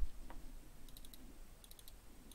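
Faint, scattered clicks over a quiet room hum, a few sharp taps spaced irregularly, like a computer mouse being clicked.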